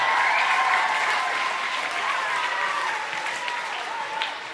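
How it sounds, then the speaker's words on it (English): Sustained applause from a seated crowd at an elementary school Blue Ribbon ceremony, honoring the school liaison officer, steady and fairly close, gradually easing toward the end. "Give her a round of applause."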